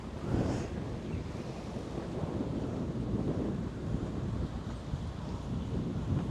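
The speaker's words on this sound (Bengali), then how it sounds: "দেখতেছেন পানির কি ঢেউ।" Water waves churn under gusting wind near a village in Hong Kong, making a faint, continuous rushing wash with a low wind rumble and no voices.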